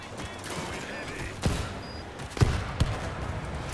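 Scattered gunshots crack out in short bursts while players fight off zombies in the video game World War Z, a few louder reports standing over quieter background noise and occasional voices.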